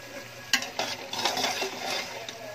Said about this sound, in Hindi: अब हम भुनाई कर रहे हैं